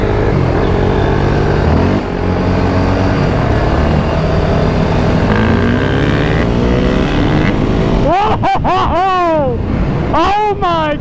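A Honda CRF250R dirt bike engine revs loud and close, sustained under excited talk, then sweeping up and down in sharp rising and falling pitch as it accelerates past near the end.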